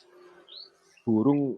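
An oriental magpie-robin (kacer) gives short, thin chirping notes, followed by a louder, brief harmonic burst near the end.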